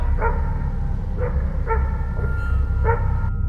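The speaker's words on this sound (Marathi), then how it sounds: "दूर कुठेतरी कुत्र्यांच्या भुंकण्याचा आवाज येत होता" Several dogs bark in scattered bursts in the distance over a constant low rumble, the barks faint and spaced irregularly.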